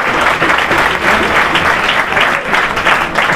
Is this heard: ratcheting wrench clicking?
no